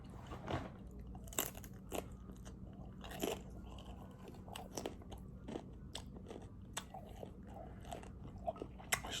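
Crunchy food is bitten and chewed close to the mic during a mukbang, with sharp crackling crunches repeating at an irregular rhythm over a quiet, low room hum.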